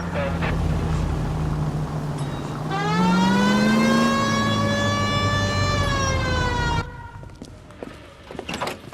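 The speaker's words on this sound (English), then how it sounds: "Hit the siren." A police car siren in the video game L.A. Noire wails in a rising and falling sweep that starts around 3 s and runs loud until it cuts off near 7 s, over engine and street noise.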